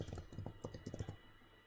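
A brief, quiet run of keystrokes on a computer keyboard, a quick flurry of taps that fades into near silence.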